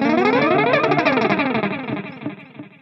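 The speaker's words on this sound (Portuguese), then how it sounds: "com um tempo fixo, que é basicamente um delay pra fazer efeito, pra fazer lombra" Guitar played through a high-feedback delay on an Ampero 2 Stomp pedalboard, a distorted chord smearing into dense cascading repeats that slowly decay, loud and alone.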